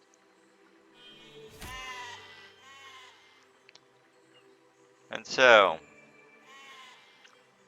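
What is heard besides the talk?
sheep bleating in the video game Besiege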